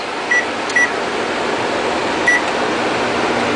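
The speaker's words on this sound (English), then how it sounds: "And the light's coming on and it's doing its microwave thing." A microwave oven, running on an RV's shore power, hums steadily with a loud, constant drone, while a few short high beeps sound at irregular intervals.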